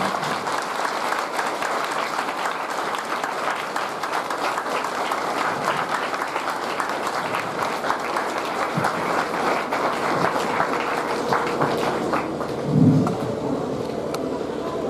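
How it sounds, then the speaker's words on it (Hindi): A crowd at a felicitation ceremony applauds for a long stretch, a loud continuous wash of clapping with a brief low thump near the end. "एक बार सबसे तालियों से स्वागत।"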